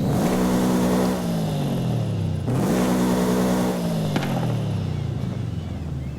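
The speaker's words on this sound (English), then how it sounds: "And here you can hear the Subaru rumble." Engine of a Subaru rally-heritage anniversary special edition car revs up and falls repeatedly, a throaty rumble with rising and dropping pitch sweeps, loud and close, with no talk.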